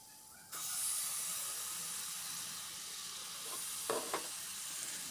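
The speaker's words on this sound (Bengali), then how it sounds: "এবার গুড়টাকে একটু নাড়াচাড়া করছি" Jaggery melts in a wok over a gas flame while being stirred for tamarind pickle, a loud sizzle and hiss starting abruptly, holding steady, then punctuated by a couple of scraping stir strokes near the end.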